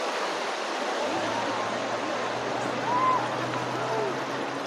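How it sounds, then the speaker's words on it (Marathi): Sea waves washing in at Murudeshwar beach in Karnataka, a continuous broad roar of surf at moderate distance, with a low steady hum underneath and faint background voices. "लाटा बघा समुद्राच्या."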